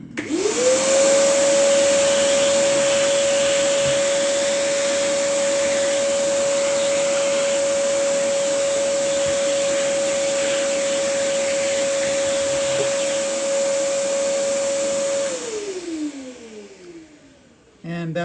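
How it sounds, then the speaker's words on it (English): Vacuum cleaner cleaning a guitar fingerboard, a loud, steady whine with a constant pitched hum held close for most of the clip, then winding down as the motor shuts off near the end. "I'm going to hit that with a vacuum real quick."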